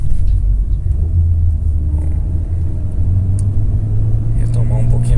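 A Fiat Linea 1.8 E.torQ with a Dualogic gearbox rolls along the road with a steady low engine rumble and road noise, the pitch shifting slightly as it downshifts.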